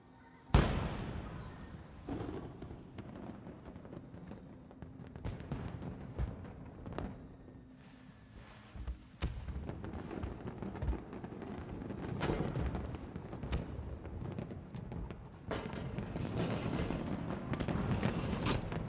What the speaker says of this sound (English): The film ends with both watching the same firework at different places.